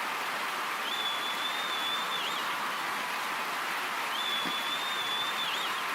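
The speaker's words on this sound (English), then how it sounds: "I love the crowd noise." Steady crowd roar from a Dynasty League Baseball video game after a home run, a continuous wash of cheering with a faint whistle-like tone recurring twice, no talking.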